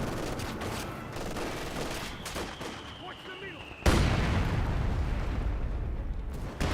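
A rifle squad and captain open fire in Company of Heroes 2, a dense volley of rifle shots crackling over rumbling battle noise, with a heavy burst midway that raises the din to a sustained roar.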